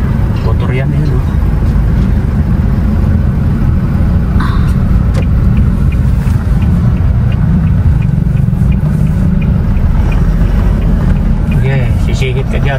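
Heavy, continuous rumble of motorcycle and car traffic on a road, loud and close as if heard from inside a vehicle, with people talking over it.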